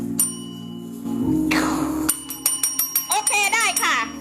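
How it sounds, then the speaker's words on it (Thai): A bell rings once with a bright metallic ding, preceded by a brief humming tone and followed by a quick rapid series of clicks and a short voice. "โอเคกระดิ่งหนึ่งครั้ง"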